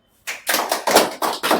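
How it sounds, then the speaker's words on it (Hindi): Classroom of students clapping hands together after a simple electric current experiment lights a bulb, about six quick bursts of claps in an uneven rhythm, close and fairly loud, with no talking over them. "बजाओ ताली।"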